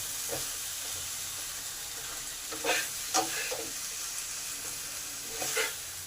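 Chicken pieces being stirred in spiced gravy in a pan for a Bengali chicken jhol with potatoes, a steady sizzle and hiss with several brief scraping strokes of the spoon, close up and with no voices.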